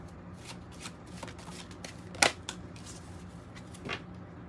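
Kipper oracle card deck shuffled close by, a steady riffling flutter of cards with a couple of sharper snaps and slaps, no talking over it.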